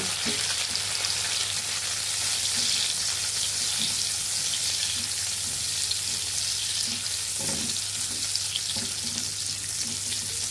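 Raisins frying in hot ghee for a raw papaya zarda, a steady dense sizzle throughout with a few faint clinks of stirring, no voices.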